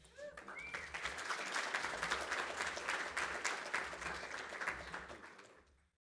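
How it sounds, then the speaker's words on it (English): A summit audience claps steadily for several seconds, a dense patter of hands that swells and then fades out, with a few faint cheers at the start. "I just got polite applause"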